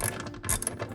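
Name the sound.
ratchet tightening seat belt nut in car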